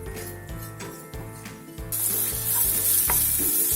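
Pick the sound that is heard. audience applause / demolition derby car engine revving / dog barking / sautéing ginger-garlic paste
sautéing ginger-garlic paste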